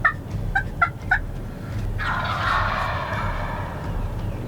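A wild turkey gobbles about ten yards away while turkey hunting in New York, with three quick, loud gobbles at the start followed by a longer, rattling gobble over faint low background rumble.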